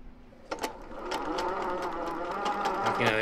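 A sewing machine in The Inheritance of Crimson Manor whirs into a steady rapid mechanical stitching rhythm, close and even, starting after a couple of clicks and running to the end.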